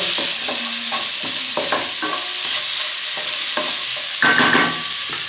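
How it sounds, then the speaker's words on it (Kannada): Onion and tomato frying together toward golden brown, a loud close sizzle under repeated rhythmic stirring scrapes of a spoon against the pan, with no one speaking. "ಈರುಳ್ಳಿ ಮತ್ತು ಟೊಮೆಟೊ ಎರಡು ಮಿಕ್ಸ್ ಮಾಡಿ ಇದ್ದೀನಿ ಇದು ಗೋಲ್ಡನ್ ಬ್ರೌನ್ ಬರೋ ತನಕ ಚೆನ್ನಾಗಿ ಫ್ರೈ ಮಾಡ್ಕೋಬೇಕು"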